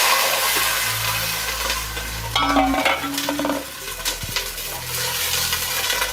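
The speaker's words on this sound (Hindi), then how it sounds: "अब मैं इसमें पानी डाल दूँगी।" Water pours into a cooking pan of hot oil with bay leaves and cloves, bringing a loud sizzling rush that settles into a steady bubbling hiss. It is close by and there is no talking.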